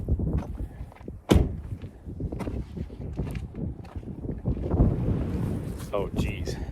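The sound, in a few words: strong wind blowing near the trailhead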